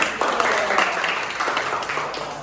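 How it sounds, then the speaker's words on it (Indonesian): Students in an Islamic jurisprudence (fiqh jinayat) class applauding, a brief burst of scattered clapping in a classroom, fairly close and partly under voices. "tepuk tangan"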